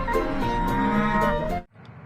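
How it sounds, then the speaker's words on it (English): A cow moos in a video game, one loud, close, sustained low moo lasting about a second and a half before cutting off to quiet background. "We have a cow."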